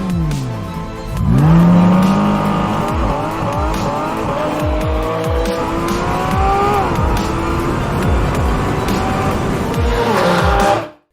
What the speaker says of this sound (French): on risque d'entendre quelques bruits d'admission d'air